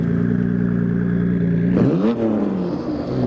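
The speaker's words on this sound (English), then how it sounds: "Take a listen to the almighty RB of the R32." A loud, near Nissan Skyline R32 GT-R with its RB engine holds a steady, rumbling idle, then revs sharply up and drops back, at a roll-up gathering of around 80 to 100 GT-Rs.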